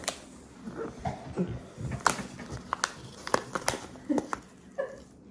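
A chocolate packet is torn open, its wrapper crackling and crinkling in irregular bursts close up, with a few sharper rips and soft background room noise.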